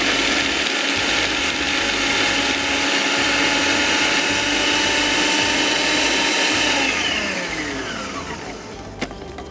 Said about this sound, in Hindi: इन तमाम चीज़ों को पहले मैं अच्छा सा पीस लेती हूँ